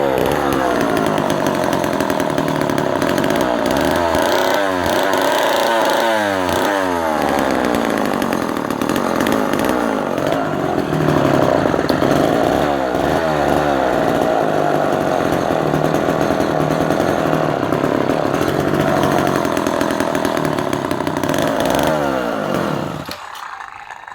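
Vintage Homelite Super XL chainsaw running loud and close for its last run, holding a steady rasping engine drone with several revving surges, then cutting out at the end; no talk.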